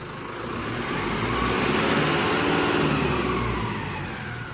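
The turbocharged engine of a Mahindra Arjun Novo 605 tractor accelerates, a steady broad roar that swells to a peak midway and eases back, heard up close with no talking.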